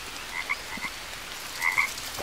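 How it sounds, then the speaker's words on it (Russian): Toad croaks in the jungle survival game Green Hell, two short bursts of repeated croaks, the first softer, the second louder and closer, over a faint steady ambient background with no talk. "Так, кто у нас? Жаба. Пускай живет."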